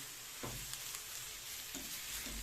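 Cabbage braising with onion in a pan is stirred, producing a faint low sizzle with a few soft scraping strokes of the utensil.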